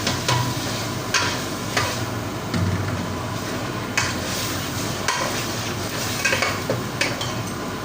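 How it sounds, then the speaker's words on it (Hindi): Chana dal frying in a pan with a continuous sizzle and periodic stirring scrapes and knocks against the metal, close and steady. "तो अब मैं इसमें चनों की दाल डालकर इसको फ्राई करूँगी अच्छे से।"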